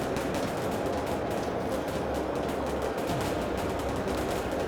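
Fire support opening up in the VBS military simulation, a dense, sustained rattle of rapid gunfire bursts that runs loud and unbroken, with no talk over it.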